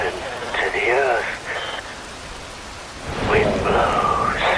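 Rain and thunder in the video game Metal Gear Rising: Revengeance: a steady wash of rainfall with rumbling swells, overlaid by gliding, voice-like tonal sweeps that fade out midway and return louder near the end.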